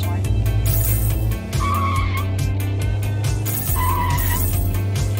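A car drifting in the video game Drift Boss, with a loud, steady engine drone and two drawn-out tire squeals, no talking.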